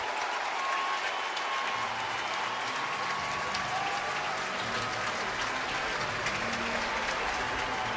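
A ballpark crowd at a Miami Marlins vs. San Francisco Giants MLB game applauds as the starting pitcher leaves the mound: steady, dense clapping and crowd roar filling the whole stretch with no break.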